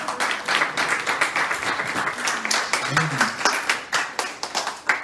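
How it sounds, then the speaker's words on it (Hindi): An audience claps together loudly, a dense, steady wave of applause lasting several seconds with a voice briefly audible beneath it. "एक बार जोर से सब मिलकर ताली बजाइए।"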